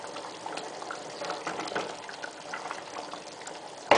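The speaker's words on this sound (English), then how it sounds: "So now I'm going to add in 1 tablespoon of grapeseed oil. I'm going to stir that." Grapeseed oil is stirred into a pot of Persian yellow split pea stew with dried plums, giving a soft, continuous wet stirring and bubbling, quiet and close, with a brief louder knock at the end.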